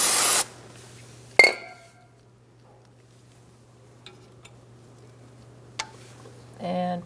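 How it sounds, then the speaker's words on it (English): Brake parts cleaner hisses in a short, loud spray burst at the front brake area of a Fiat 500. A quieter second burst follows, along with a sharp clink and faint ticks in an otherwise quiet space. "I'm going to clean off the area with some brake parts cleaner."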